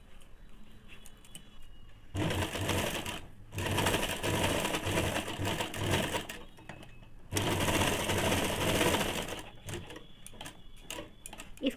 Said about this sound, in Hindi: नीचे वाले साइड को इस प्रकार से गोलाई से डबल सिलाई चला